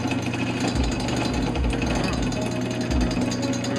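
A rebuilt HH120 engine runs on a bench for its first start. It makes a loud, rapid, hammering chatter that holds steady and close, with voices speaking over the noise.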